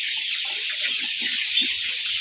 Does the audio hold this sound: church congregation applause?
no